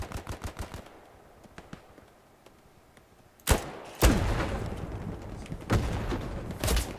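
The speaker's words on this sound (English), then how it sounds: "MG shooting on me." Machine gun fire in the World War II shooter Hell Let Loose, a rapid burst up front followed by heavy booming shots and crackling bursts of automatic fire, loud and close, with no talking.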